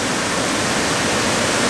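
Water rushes steadily below a ledge at an abandoned mill, a loud, dense, unbroken roar that fills the whole clip with no voices.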